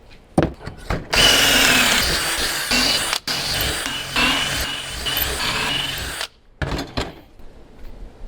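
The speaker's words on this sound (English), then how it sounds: "I'm going to put some pocket holes on these" A power drill bores pocket holes into wooden support beams for a closet in a Sprinter van build: a short burst, then a long, loud, whining run of about five seconds, followed by a few brief stuttering bursts.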